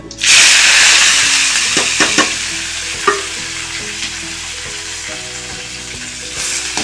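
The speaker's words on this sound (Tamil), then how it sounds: "இந்த அரிஞ்சு வைக்கிறத வெங்காயம் தக்காளி பூண்டு இஞ்சி பேஸ்ட்டு எல்லாம் கலந்து ஒன்றா போடுறேன்" Onion, tomato and garlic-ginger paste sauté in a pan for vadacurry, a loud steady sizzle with stirring scrapes and a few sharp clicks throughout, no talking.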